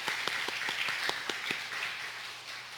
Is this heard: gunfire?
no